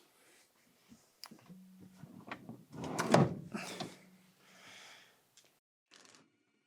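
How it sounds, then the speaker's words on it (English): A swivel van seat in a Promaster van build slides forward along its metal rails, giving a few soft clicks and then a louder scraping, clunking slide mid-clip before settling with quieter knocks. No one speaks. "Next, we'll slide the seat forward to get access to the 4 rear mounting bolts."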